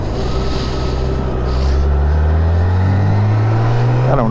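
BMW K1600 GTLE six-cylinder touring motorcycle on an evening ride, a steady loud engine drone with rising tone under heavy wind rush, no talk.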